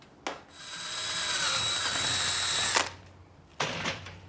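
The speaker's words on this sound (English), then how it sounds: "First thing we got to do now is drill a hole in there." A power drill bores a hole to take a 1/8 inch NPT fitting for a custom LS engine cooling system, one steady whining run of about two and a half seconds between short bursts of the motor starting.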